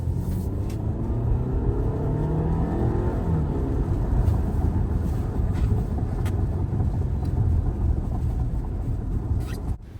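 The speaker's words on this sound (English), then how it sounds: "So let's go ahead and take off and do our acceleration test." A 2024 Audi A6 45 with a 2-liter turbocharged four-cylinder accelerates hard, a steady deep engine drone and road rumble heard from inside the cabin, with the pitch climbing throughout.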